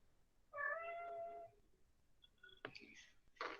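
A cat meows at a door, one long clear meow followed by a few shorter chirping mews and faint clicks, quiet and close in a still room.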